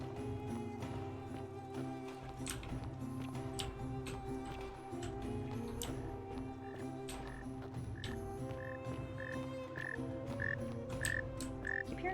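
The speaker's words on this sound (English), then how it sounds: "hearing frogs, but I can't see them" Frogs croak repeatedly in a game world from The Forgotten City, their calls layered over a steady ambient bed of water and insects, rising into regular chirping pulses toward the end with no talking.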